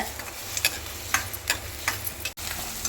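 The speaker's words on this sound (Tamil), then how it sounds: "நல்லா செவக்கிற வரைக்கும் வதக்கிக்கோங்க" Onions sautéing in a pan with fennel seeds for an egg kuzhambu, a steady low sizzle with occasional stirring scrapes and taps, close and fairly quiet, no talking.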